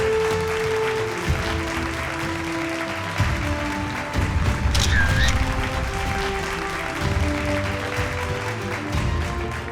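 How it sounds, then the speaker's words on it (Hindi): Audience at a News18 business awards event in Rajasthan clapping, sustained applause over stage music and hum, swelling briefly in the middle before settling. "एक बार जोरदार तालियां मैम के लिए"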